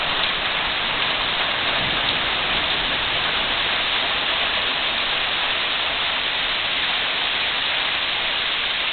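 Heavy rain pours steadily, a dense, even hiss of drops that never lets up, with no voices.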